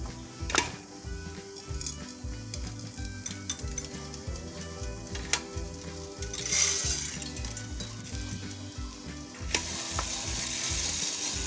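Freshly roasted coffee beans tumbling out of a Kaleido Sniper M2 roaster, a steady rattling, clattering stream with a mechanical grinding hum beneath and a few sharper knocks, close and continuous throughout.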